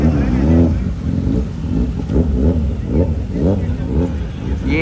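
Motorcycles revving at India Bike Week 2024, several loud rising and falling engine surges repeating close by in a busy outdoor crowd, with people talking over them.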